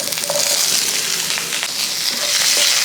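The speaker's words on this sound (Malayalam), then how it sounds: "ഉള്ളിയിട്ട് ഇളക്കി കൊടുക്കാം" Small shallots fry loudly in a ginger-garlic masala for a kusk biryani and are stirred through, giving a close, dense, crackling sizzle throughout.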